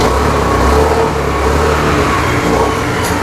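Honda Activa 3G scooter engine idling or running close by, a steady broadband mechanical drone with a low rumble that stays loud and even throughout, no talk.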